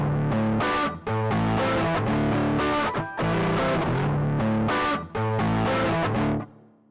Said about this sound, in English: the Rat, very popular in the 80s, subjects its op-amp to hard clipping for a more buzzy, distorted character.